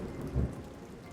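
Rain showers hiss steadily with a brief low rumble of thunder swelling and fading in the middle.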